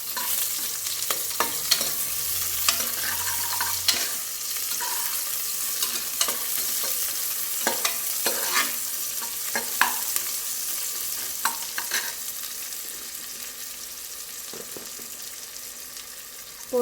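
Onions sautéing with cinnamon, cloves and cardamom for vegetable biryani, a continuous bright sizzle and fry with scattered stirring clicks and scrapes, close and fairly soft, no voices.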